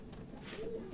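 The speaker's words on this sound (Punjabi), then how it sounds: "ਇਹ ਜੋੜਿਆਂ ਵਾਲਾ ਕਬੂਤਰ ਹੈ ਜੀ" A domestic pigeon of a high-flying breed gives a faint, brief, low coo, alone against a quiet background.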